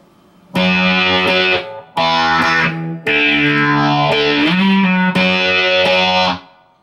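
Electric guitar with distortion and effects plays an intro riff: four loud strummed phrases, each ringing for about a second with short gaps, one with a pitch slide, up close and without talk.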